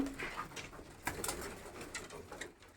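Fancy Lotan pigeons coo in low, soft, repeated murmurs against a slightly noisy background, fairly faint and close by.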